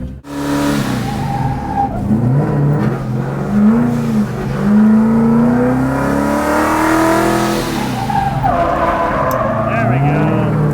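A Ford car drifting at the Holley Ford Festival, engine revving hard with long wavering tire squeals close by, voices talking underneath.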